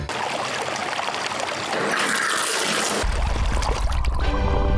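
A LEGO pirate boat loaded with loot goes into water and quickly sinks, giving a steady sloshing, trickling wash of water that swells midway and continues without pause, with no voices.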